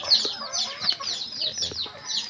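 Several chickens cluck and chatter close by in quick, overlapping bursts inside a small backyard coop, with a busy murmur underneath.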